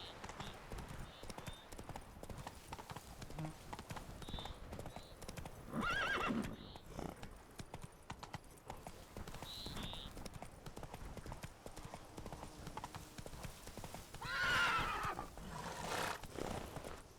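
Roach the horse gallops in The Witcher 3, with rhythmic hoofbeats running throughout and two sharp whinnies standing out, while someone speaks quietly at times.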